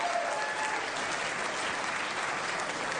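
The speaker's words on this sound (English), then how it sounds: "Give him a big round of applause." An award-event audience at a lifetime achievement ceremony breaks into steady, even applause lasting the whole stretch, a thick wash of many hands clapping at moderate volume with no voices on top.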